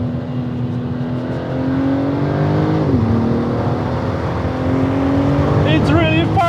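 A BMW M3 Competition accelerates with a loud, steady engine drone that rises in pitch, falls briefly and then climbs again, while a person talks over it inside the car.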